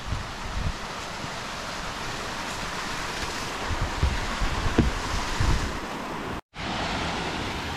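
Continuous rushing water from a waterfall on a mountain trail at Myeongjisan roars steadily with gusty, broadband texture, briefly dropping out near the end.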